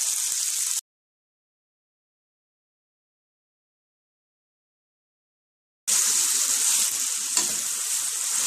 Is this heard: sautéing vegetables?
yes